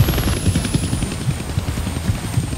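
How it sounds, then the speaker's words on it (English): Helicopter in the Deadpool video game, a rapid, pulsing rotor thump beating steadily under a thin high engine whine, close and fairly loud, with no voices. "I can't kill that chopper with my guns"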